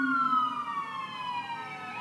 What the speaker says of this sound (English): Here I am competing with the sirens again.